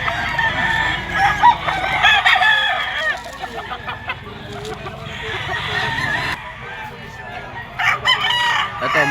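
Several gamefowl roosters and stags crow again and again at a busy gamefowl market, loud and close, overlapping one another amid clucking and general crowd noise.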